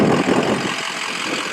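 A 6.0 diesel engine runs at a steady idle, a low, continuous rumble close by with no talking over it.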